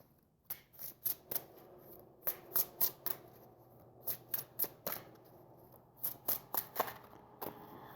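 Tarot cards being shuffled and drawn by hand: bursts of crisp riffling snaps and clicks come in uneven clusters, close and fairly quiet, with no speech.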